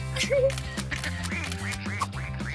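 Ducklings quacking in short, repeated calls, mixed with background music and nearby human voices.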